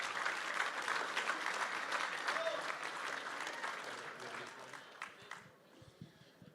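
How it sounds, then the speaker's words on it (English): Audience applause for the finalists at a Texas auctioneer championship, a steady wash of clapping from a large crowd that gradually thins and fades into scattered claps near the end. "Give them a round of applause."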